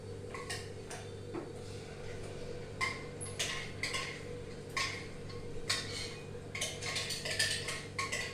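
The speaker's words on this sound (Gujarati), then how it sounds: "હવે આપણે શું કરશું, આપણા કાંદા ચડી ગયા છે, આપણે એમાં ટમેટો પ્યુરી નાખી દઈએ।" Tomato puree goes into cooked onions in a pan while making Veg Kolhapuri, with a steady sizzle under scattered clinks and scrapes of a spoon against the pan.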